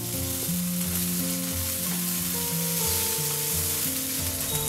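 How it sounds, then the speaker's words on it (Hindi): Boiled sweet corn frying in a pan with ginger, garlic and green chili for corn aloo patties, a continuous close sizzle with occasional stirring scrapes and no talk. "अब इसमें हम उबला हुआ कॉर्न डालेंगे"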